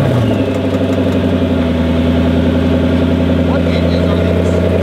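A Ford F-150 truck engine runs at a steady, loud idle close by, with a low, even drone that holds throughout while someone speaks over it.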